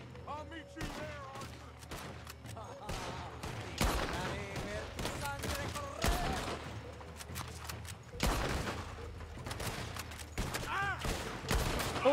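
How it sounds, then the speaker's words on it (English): Gunfire from Red Dead Redemption 2 cracks at the player in a rapid, uneven series of loud shots, several close bursts spread over the stretch, with game sounds and a voice in between. "Who's that shooting at me up there?"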